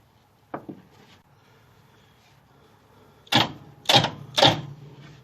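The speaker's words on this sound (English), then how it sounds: "And now I'm going to bump the starter motor." On a 1955 Cadillac Coupe Deville, the starter motor is bumped in three short, sharp mechanical bursts close by, each a quick whir and clunk, after a single faint click.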